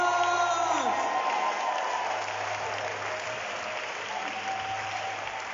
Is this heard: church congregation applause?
yes